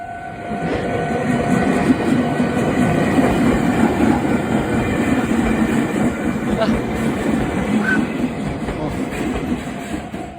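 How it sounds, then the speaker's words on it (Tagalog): A train rolls past a closed level crossing, a broad sustained rumble with rhythmic wheel clatter and faint squeal, fairly loud and continuous for the whole stretch, heard from a road waiting to cross. "Ayun ang train o."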